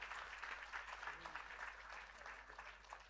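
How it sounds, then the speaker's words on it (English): Applause from a conference audience at a National Conference on Social Innovation session, a dense, steady patter of many hands clapping that holds at an even level for about three seconds with no voices over it. "big round of applause for the youngest one here today"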